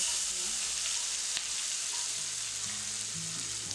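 Finely chopped onions hiss and sizzle steadily in hot oil in a pan for a Tamil egg curry, with a constant bright frying crackle and faint stirring scrapes, close by and without speech.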